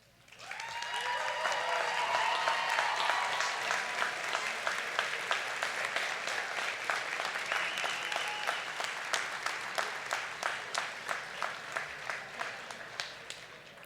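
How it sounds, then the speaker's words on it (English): Convocation guests applaud standing award recipients, a broad, sustained clapping from a large hall crowd that swells quickly and then thins into more distinct individual claps toward the end. "Would all of our award recipients please stand up for a round of applause?"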